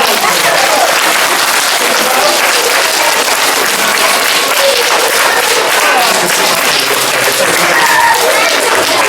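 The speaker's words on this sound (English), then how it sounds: "everybody here is going to give you a massive round of applause" A live audience breaks into a big, sustained round of applause, a loud, dense wash of clapping that holds steady for several seconds, with only scattered crowd noise underneath.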